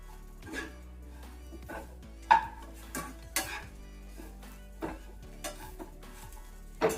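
Fried okra pieces being stirred into bhindi masala in a pan, with a spoon scraping and clinking against the metal at irregular intervals over a soft background sizzle.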